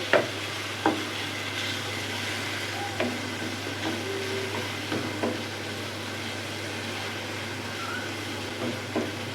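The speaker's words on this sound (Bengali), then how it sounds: "মশলাটা ভালোভাবে কষিয়ে নেব" Spice masala for a liver bhuna is sautéed in a pan with a quiet continuous sizzle, while a spatula scrapes and taps the metal in periodic strokes, close and fairly soft.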